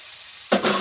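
Steamed mushrooms and fried potatoes land in a pan of spiced oil, a short quiet hush that bursts suddenly into a loud, close sizzle and keeps crackling.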